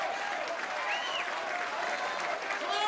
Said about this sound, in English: the Norwegian crowd getting behind him